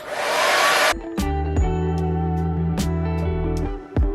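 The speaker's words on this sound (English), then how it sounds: "I'm going to turn my blow dryer on for probably like 5 seconds, just until this gets tacky." A blow dryer on a cool setting, drying lace adhesive spray for a glueless 5x5 HD closure wig, roars close and steady for about a second, then cuts off, leaving a ringing, tonal hum with faint clicks.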